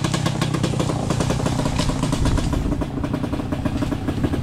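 A Kawasaki KLX 230RS dirt bike rides along a freshly cut grassy trail, its engine droning steadily and loudly up close with small revving swells and a constant mechanical clatter throughout.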